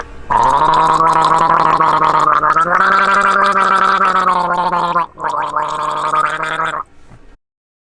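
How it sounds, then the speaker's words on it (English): A person gargles apple cider vinegar and salt loudly and close, a throaty bubbling drone that runs for several seconds, breaks briefly, resumes, then stops. "All right, we're gargling."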